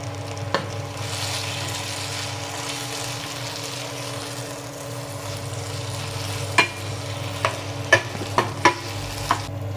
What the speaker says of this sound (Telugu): బీనీస్ కూడా బలంగా కలపెట్టేసాను.